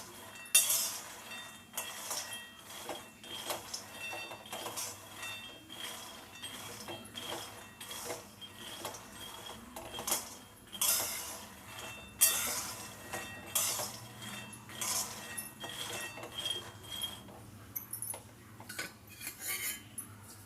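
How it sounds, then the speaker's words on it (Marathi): Peanuts roasting in a pan over low heat for peanut laddoos, with steady metallic scraping and clinking of a spoon against the pan, irregular and continuous at close range with no talk. "मी शेंगदाणे भाजून घेते खरपूस असे भाजून घ्यायचे कमी गॅसवर"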